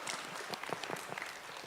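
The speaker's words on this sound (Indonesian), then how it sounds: "Tepuk tangan dulu." An audience claps together at a graduation ceremony, a dense burst of applause with distinct individual hand claps, moderately close and steady for a short stretch.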